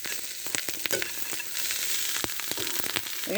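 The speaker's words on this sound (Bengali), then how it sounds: "আমি আবারও দুই তিন দুই মিনিটের মতো ভেজে নেব নেড়ে চেড়ে" Khichuri rice sizzles as it fries in a pan with carrots, potatoes, onion, egg, nuts and peas, a dense steady hiss with quick scraping stirs near the mic.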